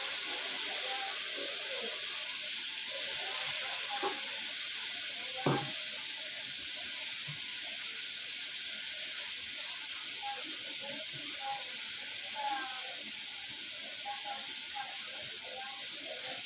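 Dried bombil fish frying in a pan with kokum for a chutney, giving a steady, bright hiss throughout with a few faint clinks and soft background sounds.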